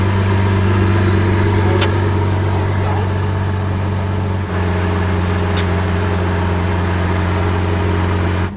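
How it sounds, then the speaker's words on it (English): A Jaguar car's engine runs steadily at idle, a smooth, even hum with a deep tone that holds level throughout, with only a brief dip partway through. "I love the sound of this car."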